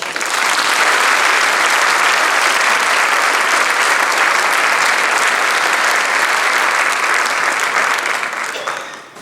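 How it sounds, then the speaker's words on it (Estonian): An audience at an Estonian teachers' award ceremony bursts into sustained applause, dense and loud clapping that holds steady for about nine seconds before easing off at the end. "Aplaus!"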